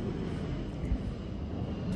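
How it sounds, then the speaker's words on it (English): Airplanes fly over a shop outdoors, producing a steady, broad, distant engine rumble that holds throughout the short stretch. "don't mind the airplanes flying over"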